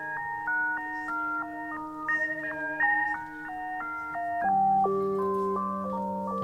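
A UDO DMNO synthesizer plays a sequence of stepped, bell-like tones with a gently warbling pitch modulation. The notes change in a quick, even rhythm, moderately loud and alone, and the register drops partway through.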